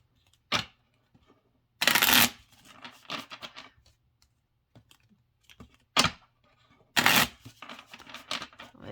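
Thick Bluebird Lenormand cards are shuffled in short, close bursts of riffling and flicking, separated by quiet pauses.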